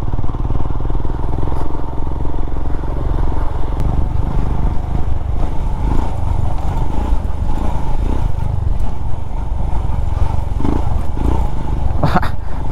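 A motorcycle is ridden on a scenic trail, with a steady, loud engine drone and rumble plus clattering and wind noise throughout, close to the rider.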